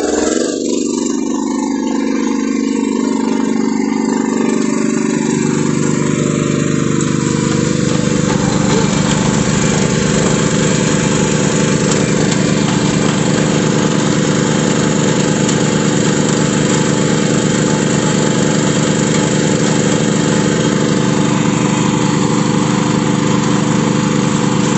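A loud generator engine drones continuously nearby during water-well drilling, a constant rough mechanical roar with no pauses.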